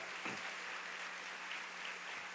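Faint applause from a church congregation, a soft wash of clapping that holds steady for a couple of seconds, distant and without voices.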